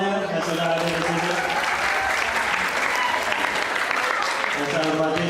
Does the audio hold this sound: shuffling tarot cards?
no